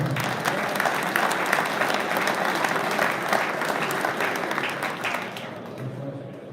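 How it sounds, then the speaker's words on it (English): Audience applause at a fishing tournament awards ceremony, a sustained wash of clapping that holds steady for several seconds before tapering off near the end. "Y'all give him a round of applause."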